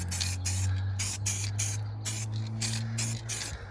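A spray gun lays a second coat of paint on a military Jeep in roughly eight short hissing bursts, close and loud over a low steady hum.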